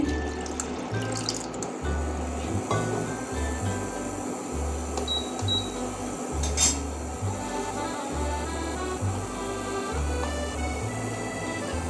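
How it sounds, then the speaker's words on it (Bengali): Water is poured into a pot for making chushi pitha rice dumplings, a steady close trickle and splash over a rhythmic low hum in the kitchen, with no talking. "আমি এবার জলটা দিয়ে দিচ্ছি"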